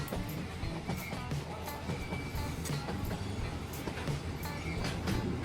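Steady rumbling of a train pulling carriages along the tracks, with rhythmic clacks and occasional high squeals over a continuous low roar.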